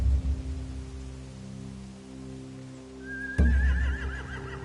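Horses neighing in The Walking Dead video game: a single clear whinny breaks in after a low steady rumble, loud and close, trailing off in a wavering cry.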